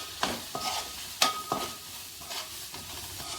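Pav bhaji ingredients are stirred in a pan, giving several distinct scrapes and clinks of a spoon against metal over a soft sizzle, close and moderately quiet.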